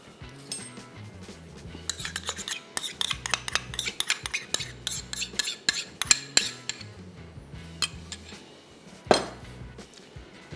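A spoon stirs cream into matar paneer curry in a metal pot, with repeated clinks and scrapes against the sides in an irregular rhythm, close and fairly loud over a low hum, ending with a sharp knock.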